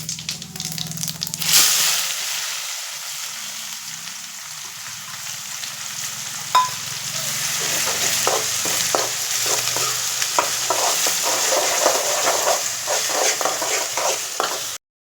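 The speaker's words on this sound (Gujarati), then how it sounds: "હવે નાખવાનું છે જીરું અને હવે નાખવાની છે ડુંગળી." Cumin and onion drop into hot oil in a pan with a sudden loud sizzle, followed by continuous frying hiss and scraping stirring sounds close by.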